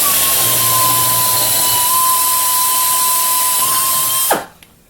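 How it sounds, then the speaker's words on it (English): An air drill bores the first hole in a Bearhawk aircraft spar, a steady, close, high whine running for about four seconds before it cuts off abruptly. "Put a clamp in place, and we'll drill the first hole. I'm using my air drill with the bubble,"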